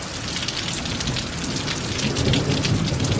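Heavy rain pours steadily on surfaces during a thunderstorm, a dense close hiss with a low rumble of thunder swelling underneath toward the end.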